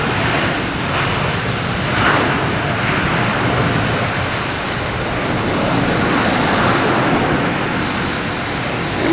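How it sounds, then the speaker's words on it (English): Delta Airbus A320neo arriving at Boston Logan on a flight from Seattle, a steady broadband jet roar that swells and fades gently, fairly loud and continuous with no voices. "You have Delta here coming in from Seattle on A320neo."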